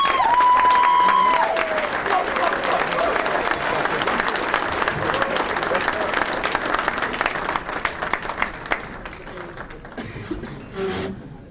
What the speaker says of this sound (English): a big round of applause for one of the greatest football players ever out of Philadelphia